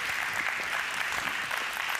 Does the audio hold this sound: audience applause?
yes